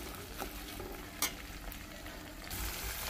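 Prawns fry in hot oil in a kadai with a low, steady sizzle and crackle, a brief sharp pop near the middle and the frying swelling louder toward the end, with no voices.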